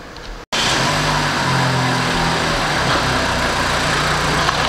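BMW N20 engine idling on a lift in a repair shop, a steady close, loud running hum after a brief cutout at the start, with no talk over it.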